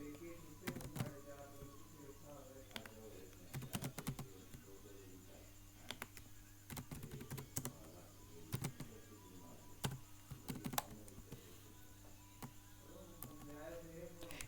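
Typing on a computer keyboard during an HTML lecture: quiet clusters of sharp key clicks come in irregular bursts throughout, with someone talking over them.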